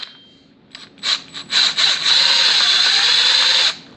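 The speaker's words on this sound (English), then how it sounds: "But if you just use an impact," An impact wrench on a bolt of a seized Audi A6 C6 3.0 TFSI engine, starting with a few short bursts and then one sustained loud whirring rattle lasting about two seconds, close up.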